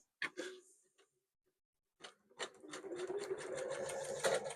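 A quilting sewing machine makes a couple of short mechanical bursts, pauses, then settles into a steady, close, whirring run of stitching with a rapid ticking rhythm.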